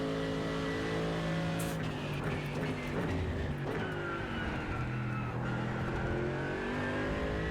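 A Mercedes GT3 race car lapping Road America in a racing video game: a loud engine roars and revs continuously, with downshifts under braking and tyre squeal.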